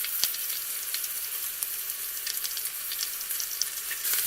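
Red chili and curry leaves frying with ginger garlic paste in hot oil, giving a continuous close bright sizzle with small pops and crackles throughout.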